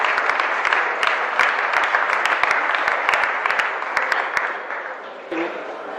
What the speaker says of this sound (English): For you, the winners, and special applause to the finalists